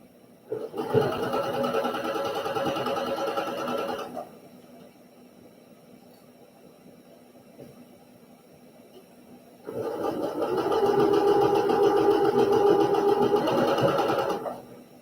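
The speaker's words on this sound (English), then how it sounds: "I'm going to go over to the sewing machine, and I'm going to sew my next little square." A sewing machine stitches fabric squares for a quilt sampler block in two long whirring runs, loud and close, separated by a quiet pause.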